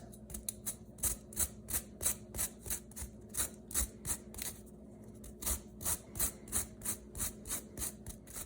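A lemon is zested by hand on a grater, giving close, rhythmic scraping strokes in quick repeated bursts with a brief pause midway.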